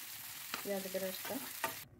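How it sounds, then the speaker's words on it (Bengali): Onions fry in hot oil for chicken korma, giving a moderate, even sizzle with a few spoon knocks against the pan and brief tonal scraping, close up, ending abruptly. "এখন আমি পেঁয়াজ একটু বেরেস্তা করে নিব।"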